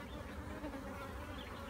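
Honeybees hum in a dense, steady drone at an open beehive during an inspection, close and continuous with no talking.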